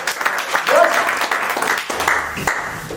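Audience applause at a talk on networking and wealth, a steady dense patter of clapping that fills the stretch, with a voice speaking over it in the background.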